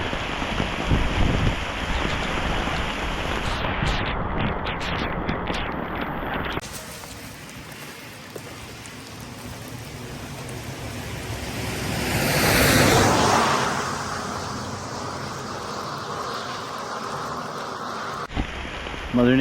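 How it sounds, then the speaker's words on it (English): Heavy rain pours down outdoors, heard from beneath a tree beside gravel roads, a dense steady roar that softens midway and then swells again, with no talking. "I can't remember the last time I seen it rain this hard."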